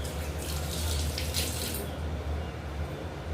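Water runs steadily from a tap as hands are rinsed in a kitchen sink while cooking, a close, continuous splashing rush that thins out after about two seconds.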